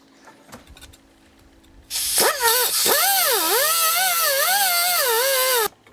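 A power tool whines loudly and steadily for about four seconds, its pitch rising and falling under load as it works broken-off studs out of a fuel filter bracket from an old Isuzu Trooper.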